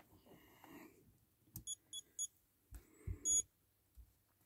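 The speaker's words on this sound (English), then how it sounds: "Turn on the ESC." An RC car's electronic speed controller powers on with a quick series of short, thin electronic beeps, faint and close, amid quiet handling noise.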